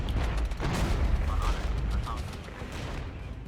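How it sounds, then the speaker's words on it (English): Artillery fire in the Regiments war game, a 1989 battlefield with T-72 and PT-76 tanks, heard as dull rumbling booms and low thuds through a short noisy stretch, with a voice talking over it. "Oh, we're taking artillery fire."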